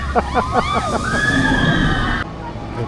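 An amusement park water-ride boat at Heide Park plunges into the water with a heavy, rushing splash and continuous sloshing, while nearby voices and excited shouts carry over it.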